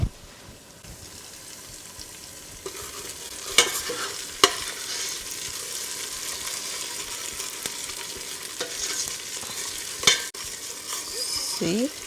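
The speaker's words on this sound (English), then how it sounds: "I want it to fry for a little bit more, so it will release all its flavor as well and reduce that tanginess" Tomato frying and sizzling in a pot for Nigerian spaghetti jollof, a steady hiss with scattered sharp pops and stirring scrapes, loud and close, with no talk.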